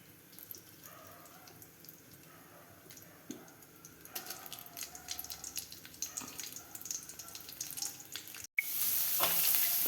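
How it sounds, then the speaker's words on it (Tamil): Mustard seeds, urad dal, dried red chillies and onions sizzle and crackle steadily in hot oil in a pan, growing louder partway through, with a sharp clatter near the end before the frying surges. "கடுகு, உளுத்தம்பருப்பு, வரமிளகாய், வெங்காயம் எல்லாம் போட்டு தாளிக்கிற பாருங்க"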